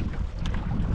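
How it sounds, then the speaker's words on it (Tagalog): Steady cold wind buffeting a microphone over open water while fishing nets are lowered, a low continuous roar with faint splashing, close and fairly loud. "Ang lamig, ang hangin."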